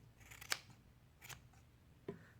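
Sharp scissors cut yarn while making pom poms, with three quiet, crisp snips spaced about a second apart in an otherwise hushed room.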